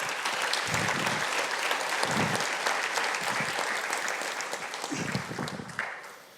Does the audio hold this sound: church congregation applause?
yes